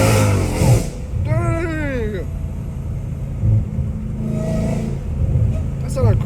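A catless Dodge Challenger Hellcat Redeye revs on a street at night, its deep exhaust rumble rising in swells with whining supercharger sweeps, while someone talks over it.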